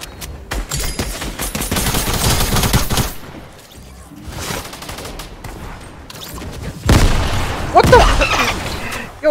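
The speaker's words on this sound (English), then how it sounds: "A grenade just blew me up in the air while I was gliding in, bro." Fortnite gunfire and grenade blasts ring out loudly in bursts, with rapid automatic shots and a heavy explosion near the end, under busy game noise.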